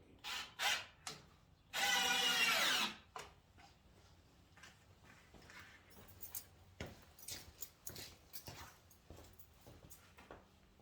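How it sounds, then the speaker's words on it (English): A power drill drives countersinking screws into wood while building a folding table, giving one loud sustained whir of about a second, then scattered brief clicks and knocks of handling afterward. "As I'm putting them in, they're all countersinking"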